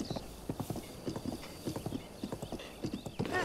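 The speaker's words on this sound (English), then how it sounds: "This horse needs to calm down a little bit." In Zelda: Breath of the Wild, a wild horse's hooves clip-clop in a brisk, uneven rhythm close by, with a high whinny near the end; no talking over it.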